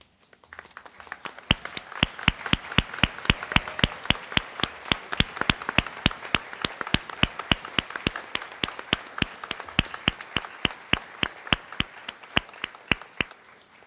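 An audience at a medical school white coat ceremony applauds, with sharp claps landing in a steady, evenly spaced rhythm for over ten seconds above a softer bed of scattered clapping in a large hall.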